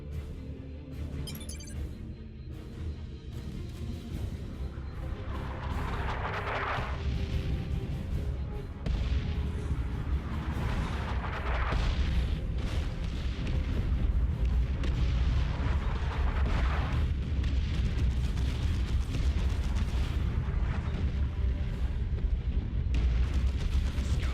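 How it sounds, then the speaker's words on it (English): Artillery barrage in Warhammer 40,000: Dawn of War 2: Chaos Rising, a heavy, continuous rumble of distant booms and blasts rolling on for the whole stretch. Impacts swell periodically over a low roar. "The traitors are laying down a barrage to soften us up."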